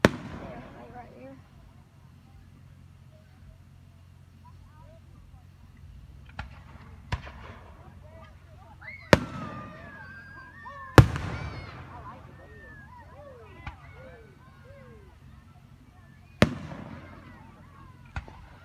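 Fourth of July fireworks heard from a distance: a handful of sharp booms and cracks spread irregularly over a low crowd murmur, with faint crackles and whistles trailing some bursts and people talking now and then.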